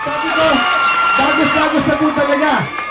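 A large crowd at an outdoor campaign rally for a candidate cheers and whoops loudly as he takes the stage, with a sustained roar of voices and shouts while amplified speech carries over it.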